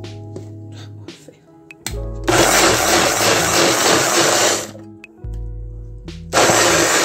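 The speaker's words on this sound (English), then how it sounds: "using my son's blender" Electric household blender whirring loudly in two bursts, a long run and then a second start near the end, blending tomatoes for salsa verde in a home kitchen, with clinks and handling noises between.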